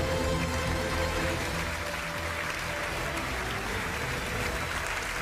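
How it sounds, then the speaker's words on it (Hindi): A studio audience at a televised political debate applauds to welcome the next speakers, a dense, continuous wash of clapping that holds steady and loud throughout with no speech over it. "तालियों के साथ स्वागत कीजिए।"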